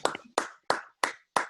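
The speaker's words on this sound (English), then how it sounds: "I want to applaud you." Applause during an online meeting comes as five sharp, evenly spaced hand claps from a single nearby person, each with a short ringing tail.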